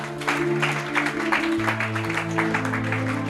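An audience at a French-language Bible teaching session breaks into steady clapping applause, dense and close, with a sustained tonal hum and a voice underneath.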